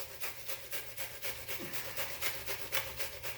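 Cheese being grated on a metal cheese grater for overloaded mac and cheese, a steady rhythmic rasping of repeated strokes, close and moderately loud, with no talking.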